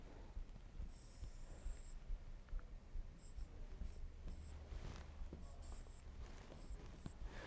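A pen scratches across paper while drawing a graph, with soft, close strokes in short bursts and a faint background hum.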